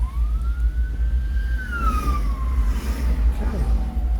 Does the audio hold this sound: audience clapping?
no